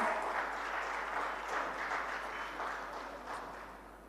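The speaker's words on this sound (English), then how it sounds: "with a nice big round of applause." Audience at the South India Media Summit 2025 gives a steady round of applause, a dense, even wash of clapping that holds for several seconds and fades slightly toward the end, with no voices over it.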